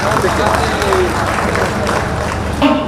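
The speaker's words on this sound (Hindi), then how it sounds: "आप सबकी तरफ से जोरदार तालियां" A crowd applauds Prime Minister Narendra Modi at a large public event in Baba Dham, where development projects are being launched. The clapping is a steady, dense wash of sound that lasts throughout, with voices mixed into it.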